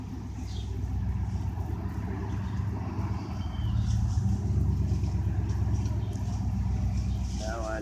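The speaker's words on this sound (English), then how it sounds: "our neighbor who's pulled in with his truck with a Hemi will change the sounds of things" A pickup truck with a Hemi engine pulls in nearby, its low steady engine rumble rising slightly midway and continuing throughout with faint outdoor background sounds.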